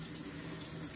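Water running steadily from a shower, a continuous soft hiss and splash heard close but at low volume, unbroken for the whole moment.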